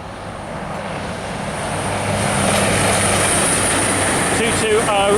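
A CrossCountry passenger train rumbles past nearby in York, a broad steady roar that builds and holds, with faint squeals near the end.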